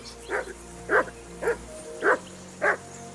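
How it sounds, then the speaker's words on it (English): A dog named Mutt in Kingdom Come: Deliverance II barks five times at a steady pace, clear and moderately near, over a faint ambient game hum. "you can hear that damn dog of yours barking"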